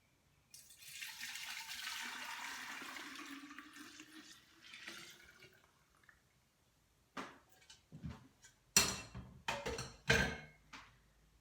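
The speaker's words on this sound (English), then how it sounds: "So here's our container, and we pour it in." Homemade kombucha pours into a container, a sustained liquid splash lasting several seconds before tapering, followed by a few sharp clinks and knocks of handling nearby.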